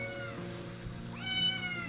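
A cat meows twice, a short drawn-out call and then a louder rising one, close and clear over a quiet background.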